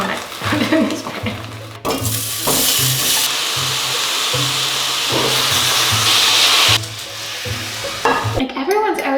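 Butter sizzling in a pan while it burns, a steady loud frying hiss with clattering stirring and utensil knocks on the pan throughout, and brief talk near the end.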